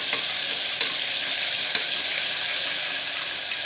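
Mutton green masala frying in a pan while being stirred, a continuous close sizzle with a few soft scrapes of the spoon against the pan, no voices.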